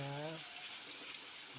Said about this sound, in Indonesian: Sekarang mau goreng bumbunya dulu